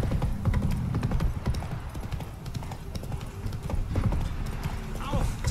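Horse hooves clip-clop steadily while riding in The Witcher 3: Wild Hunt, a continuous galloping rhythm mixed with game ambience and someone talking over it.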